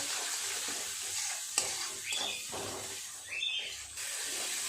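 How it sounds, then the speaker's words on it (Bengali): Spices with cumin powder and sugar are stir-fried in a pan, giving a continuous soft sizzle and scraping of a spatula that rises and falls in short strokes, close and alone. "খুব ভালো করে মশলাটাকে কষিয়ে নেব।"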